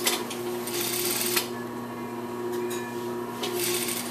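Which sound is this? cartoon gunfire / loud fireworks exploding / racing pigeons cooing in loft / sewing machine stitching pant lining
sewing machine stitching pant lining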